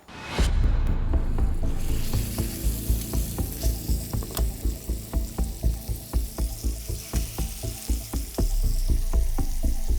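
Beef tenderloin searing in a hot oiled pan gives off a loud, steady sizzle, broken by a regular rhythm of scraping and stirring strokes through the middle, with no one speaking.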